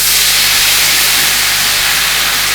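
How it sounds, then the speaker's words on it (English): A hot pan being deglazed with wine for creamy bacon and mushroom pasta lets out a loud, sustained hiss of steam, broad and continuous, close by and with no pause. "I'm going to deglaze the pan."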